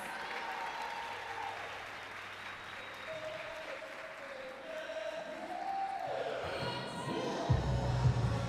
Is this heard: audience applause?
yes